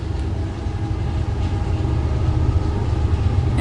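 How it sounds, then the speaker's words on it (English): A train passes nearby with a steady low rumble and rolling drone that grows slightly louder over a few seconds, heard alone without speech. "excuse the train"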